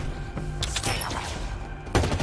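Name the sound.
gunfire in the video game Halo Infinite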